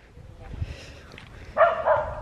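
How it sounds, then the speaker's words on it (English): A dog gives a couple of short barks at moderate distance, following quieter background voices and movement. "She's barking."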